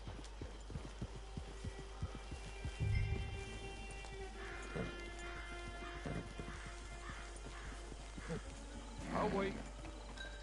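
Horse hooves clip-clop in Red Dead Online, a rapid run of clopping steps alongside snorts and whinnies, with a voice speaking briefly over a low hum.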